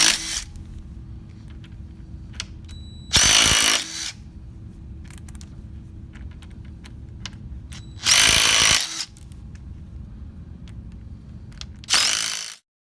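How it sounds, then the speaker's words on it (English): An impact drill shearing off bolts fires three loud, rattling bursts spaced several seconds apart, with quiet mechanical hum and small clicks between them. "use an impact drill to shear off bolts"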